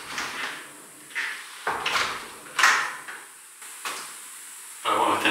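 A shipping container's steel exterior door opens and closes in a few separate clunks and bangs with hissing scrapes between them, close and fairly loud, ending in a brief burst of noise.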